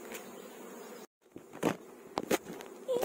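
Honey bees buzzing at a beehive while a strong split colony is being made: scattered close buzzes as single bees fly past the microphone, over a faint background hum, with a brief gap of silence.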